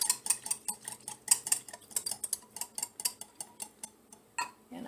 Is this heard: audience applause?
no